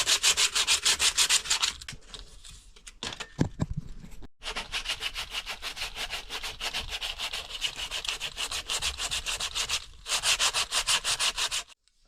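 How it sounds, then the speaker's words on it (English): Steady, rhythmic sanding strokes on a fly fishing rod, close and fairly loud, with a couple of brief pauses and some knocks midway. "I'm just going to do some sanding off."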